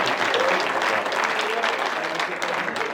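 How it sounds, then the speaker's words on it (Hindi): At a Hindi comic poetry gathering, an audience claps steadily for a speaker, a dense continuous patter of many hands that holds evenly for the whole stretch, with some voices mixed in. "सर के लिए तालियां बजा दो सर।"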